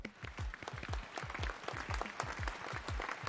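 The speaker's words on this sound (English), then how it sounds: "let's give applause for them!" Applause at a virtual Christmas and year-end community celebration in Potong Pasir: a steady, dense patter of clapping that holds at an even level over a few seconds, with soft rhythmic low thumps beneath.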